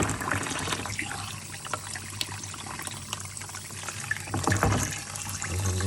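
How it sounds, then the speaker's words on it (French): Hot water pours and splashes over oil breather parts from an Audi A8 W12, a continuous close rushing and gurgling stream with small clatters as the parts are rinsed. "je dégraisse le truc avec de l'eau chaude"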